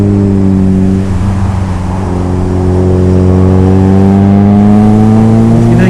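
Suzuki B-King motorcycle engine droning steadily at close range while riding a smooth open road, a strong low harmonic hum that dips briefly near the start then climbs smoothly in pitch as speed builds, with wind rush throughout.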